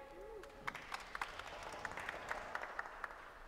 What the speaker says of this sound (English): you heard a little bit of claps there from the gallery